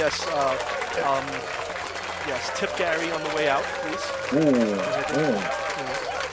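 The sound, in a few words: live audience clapping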